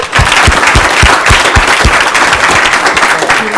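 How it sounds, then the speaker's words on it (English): Loud, sustained crowd applause with many hands clapping at once, a few sharper claps standing out near the start. "why don't we give you all another round of applause for a great job"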